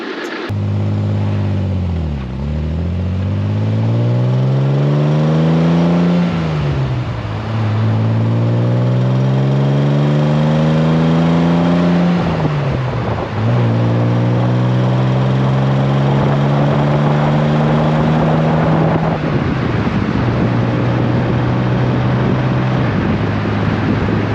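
A frame-off restored 1973 Triumph TR6 with its 2.5-litre engine pulls down the road, loud and close, its engine note climbing through the gears in repeated rising sweeps broken by brief dips at each shift.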